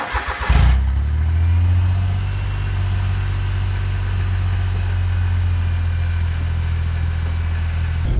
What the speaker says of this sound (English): It would be wrong of me to not get you a nice cold start exhaust note.